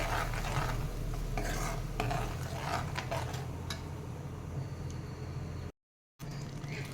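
Cooked beetroot being stirred and mixed in a pan at home, with steady scraping and clinking of a spoon against metal, continuous and close, with a short silent gap near the end.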